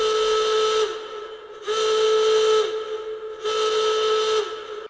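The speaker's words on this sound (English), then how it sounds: "Cue the alert." An alert sound effect like a steam whistle gives three long, loud, steady shrill blasts separated by short gaps, with nothing else heard.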